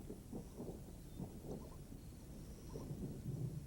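Thunderstorm building over the savanna as the rains begin, with low rolling thunder rumbling in the distance beneath a soft, steady hiss of rain and wind.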